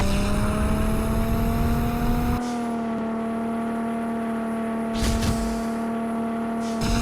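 Racing car engine in the mobile racing game Underground Rivals 2, a steady high-pitched drone held at constant revs, loud and close, with brief bursts of rough noise and a shift in tone partway through.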